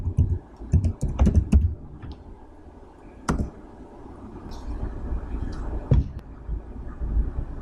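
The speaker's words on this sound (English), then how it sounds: "what we want to do is type kingdom/J-Snow and his password" Username and password typed on a computer keyboard during a Windows domain login, with close, uneven bursts of key clicks and brief pauses, no talking.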